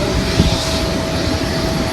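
Aircraft engines droning steadily at Saint-Denis de la Réunion airport, a loud continuous roar with no breaks and no voices.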